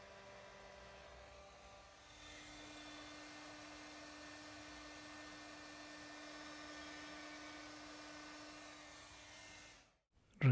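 After a quiet start, a hair dryer switches on and blows steadily with a high mechanical whine for several seconds, then abruptly cuts off.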